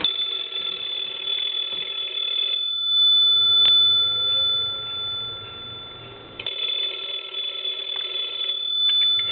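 An old PTT stone telephone bell rings in loud, bright bursts, with two rings separated by a quieter pause, close by and heard alone.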